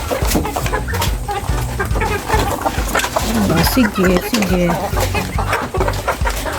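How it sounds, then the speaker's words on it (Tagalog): Many chickens cluck and squawk close by, busy and overlapping, while a person speaks briefly over them. "Ang daming manok."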